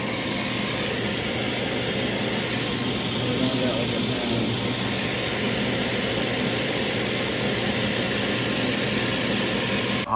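A refrigerant recovery machine runs on a mini split air conditioner, giving a steady, loud mechanical drone with a broad hiss that holds even and unbroken throughout.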